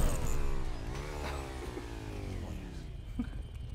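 A motorcycle engine in the GTA video game revving loudly, its pitch rising and falling through a sustained, near whir with faint scattered game sounds behind it.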